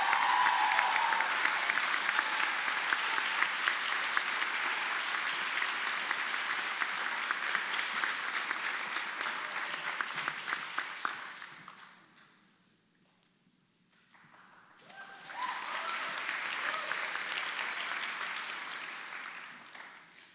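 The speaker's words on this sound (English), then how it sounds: "Please give a round of applause to Piper Harrison." A crowd gives sustained applause at a high school senior awards night, steady clapping that fades out, falls nearly silent for a few seconds, then swells again as a fresh round starts.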